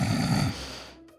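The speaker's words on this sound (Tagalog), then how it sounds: "Ang hilik niya, parang sirenang dumadagundong." A man snores loudly and heavily, a deep rasping rumble that carries for about half a second and then trails off into fading breath, with no talking.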